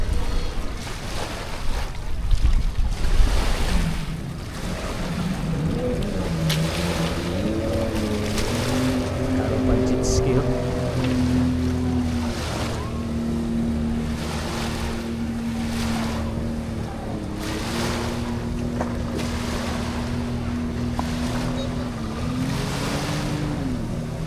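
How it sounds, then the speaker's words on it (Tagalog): Boats bob on the sea off Cebu White Sand Beach in Lapu-Lapu, with a motorboat engine humming and shifting pitch over steady wave wash and gusty wind noise buffeting the microphone. "Daming bangka."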